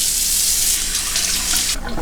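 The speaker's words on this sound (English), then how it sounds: "So I'm going to soak my face with some hot water." Hot water runs steadily from a tap into a bathroom sink during a shave, a close, continuous hiss and splash that cuts off near the end.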